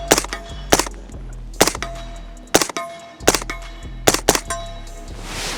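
A gun fired at night through a night vision setup with a red dot and laser, giving several sharp, loud shots in irregular pairs and singles, with ringing between them and no talking.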